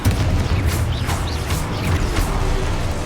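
Loud booming blasts from the Confringo fire spell in the game Hogwarts Legacy repeat over a dense, rumbling battle din, with several sharp bursts and crashes throughout.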